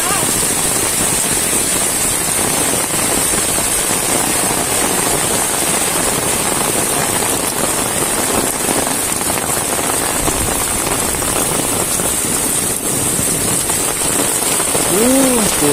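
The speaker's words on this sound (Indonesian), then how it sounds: "Hujan gede kawan-kawan." Heavy rain pours steadily in a village in Tasikmalaya, a dense continuous wash of drops on surfaces that fills the whole clip at high level, with faint voices underneath.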